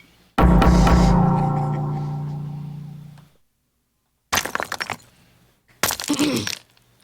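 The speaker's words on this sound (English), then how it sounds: "There's rock smashing and crowd cheers." A heavy rock smashes with a loud, ringing impact that decays over a few seconds, followed by two short bursts of rattling crashes after a brief silence, in a game.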